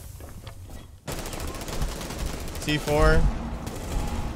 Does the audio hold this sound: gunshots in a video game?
yes